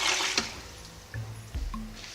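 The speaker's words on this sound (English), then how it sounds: "Okay, so you finish blending and you just pour it in." Blended pepper, onion and garlic pour into a pot for egusi soup, a thick liquid sloshing and gurgling in a steady stream with a couple of soft splashing thuds.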